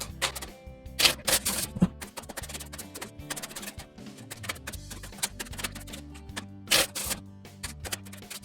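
Tarot cards are shuffled in rapid crisp riffles and clicks that come in bursts, close and fairly loud, with brief pauses between shuffles and no talking.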